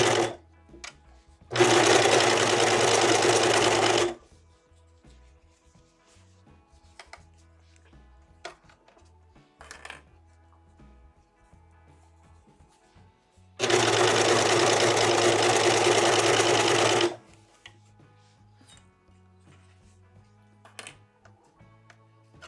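A serger stitches a hooded shirt in two loud, fast, even bursts of a few seconds each, separated by quiet stretches with soft handling clicks and rustles.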